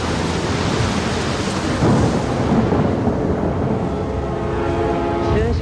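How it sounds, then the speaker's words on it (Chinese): Thunder rolls as a continuous, loud, deep rumble that swells slightly partway through, and a voice begins speaking near the end. "只是凑巧撞上打雷天而已。"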